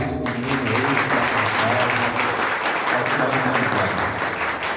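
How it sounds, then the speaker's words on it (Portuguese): An audience at a Spiritist seminar bursts into sustained applause, dense steady clapping from a sizable crowd heard at a moderate distance, holding level throughout before easing slightly at the end. "merece uma salva de palmas esse menino"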